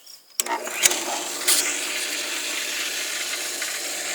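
A Hayward DE filter pump on an Intex pool kicks on with a click and settles into a steady whirring hum, water churning and hissing continuously beneath it.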